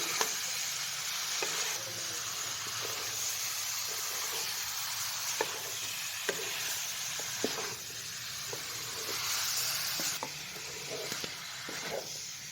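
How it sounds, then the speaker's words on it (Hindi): Mixed vegetables being stirred in a hot pan for a restaurant-style mix veg sabzi, with a constant sizzle and periodic sharp scrapes and taps of the spatula against the pan. "अब हम इन्हें अच्छी तरह से मिक्स करेंगे।"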